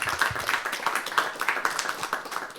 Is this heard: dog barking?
no